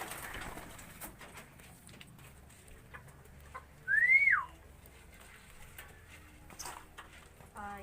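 Two pigeons outdoors give a single clear rising-then-falling whistle-like call midway, with faint background rustling and scattered small knocks around it.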